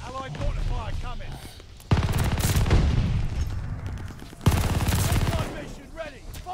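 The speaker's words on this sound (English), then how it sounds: "Allied mortar fire coming." Mortar strikes and gunfire in Call of Duty Vanguard, three heavy booming bursts landing a couple of seconds apart amid rattling shots, with a voice talking over the battle between blasts.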